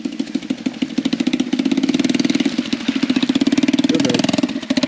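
A farm motorbike's engine runs steadily close by with a rapid, even, thumping putter and slight surges, loud and continuous at a shearing setting, with no talk.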